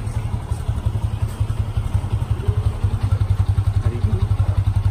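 A motorcycle engine idles nearby on a Merdeka Day ride to Perlis, thumping in a steady, rapid pulse with light mechanical clatter. The sound is loud and even, with no talking.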